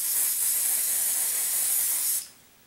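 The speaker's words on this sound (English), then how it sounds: "I'm gonna go ahead and flip it over and spray the other side of it as well" Aerosol stain protector sprayed onto a Louis Vuitton bandeau, a loud continuous close hiss lasting about two seconds before cutting off abruptly, with no voices.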